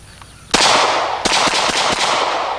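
Rifle shots fired outdoors: a sharp loud crack, then a second report about three-quarters of a second later, with quick snapping echoes trailing each and a loud sustained wash of noise between.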